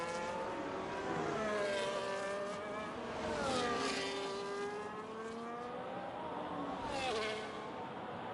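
A race car driven hard through the corners at Jeddah, its engine revving up and down with rising and falling pitch, loud and close, with a tire squeal as it is thrown into a turn.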